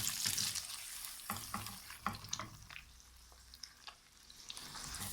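Egg seasoned with salt and pepper is scrambled in a pan, a soft sizzle under repeated scraping and tapping of a spatula against the pan, quiet and close, with no talking.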